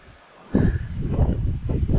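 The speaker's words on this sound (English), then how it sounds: "Super windy as well, so I don't know if you can hear this." Gusty wind buffets the microphone on a hill trail at Mt McKerrow, Wellington, after a brief quiet start, a loud low rumble that surges and rustles continuously.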